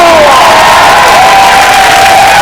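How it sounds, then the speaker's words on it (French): A large crowd cheers and claps loudly and continuously, with whoops and high shouts rising over the roar. "On les applaudit fort"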